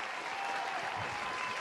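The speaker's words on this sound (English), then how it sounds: "Applause, please." An audience at a show applauds, steady dense clapping that fills the moment at moderate distance.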